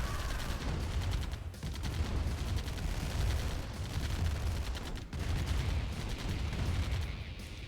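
Sustained gunfire and artillery rattle against medium tanks in a Tiberian Dawn Remastered battle, loud and continuous with dense overlapping shots and booms throughout.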